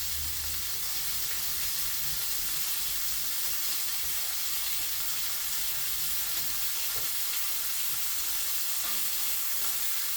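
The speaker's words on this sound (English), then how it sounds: "I'm just going to give that a really good stir." Japanese curry sauce sizzling and bubbling in a pan as it is stirred, a dense steady hiss with faint scraping, close and continuous with no talk.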